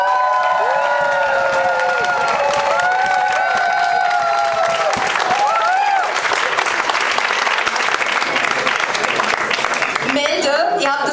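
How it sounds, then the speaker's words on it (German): Loud audience applause with cheering and whistles from a crowd at a food-themed science slam, sustained throughout and swelling toward the end. "Dann bitte jetzt applaudieren."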